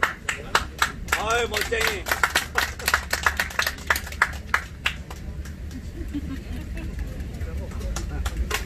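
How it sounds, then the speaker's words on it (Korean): An audience at a live pumba folk troupe show claps in a burst of rapid, loud hand claps that taper into scattered applause, while a performer talks over it. "박수도 많이 주시고"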